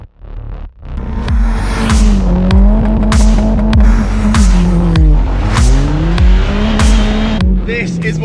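Modified rally car driven hard on a gravel stage in Wales, its engine loud and close with repeated rising revs and gear changes, tyres crunching and skidding throughout.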